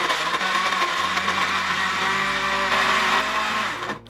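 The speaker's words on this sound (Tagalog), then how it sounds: "unahin po muna natin i-blender ang ating carrots" A blender whirs loudly and steadily for about four seconds blending carrots with water, its motor pitch shifting slightly as it churns, then cuts off abruptly at the end.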